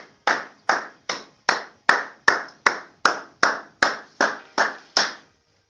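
A church congregation claps together in a steady, even rhythm, about fourteen sharp claps in under six seconds, loud and close with no other sound.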